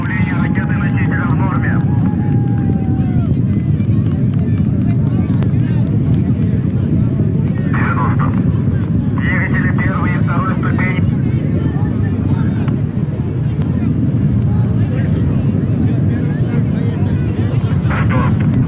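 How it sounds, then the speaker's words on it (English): Soyuz 2.1a rocket with the Progress MS-25 cargo craft, launched from Baikonur, roaring through the first-stage burn as a continuous loud rumble with a dense low-frequency roar, while a voice speaks over it. "Engines of the first stage continue to operate as expected."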